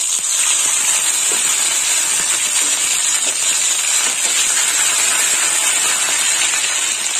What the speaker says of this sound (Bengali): এবার একটু আদা বাটা দেবো, সামান্য আদা বাটা দিয়ে দিলাম।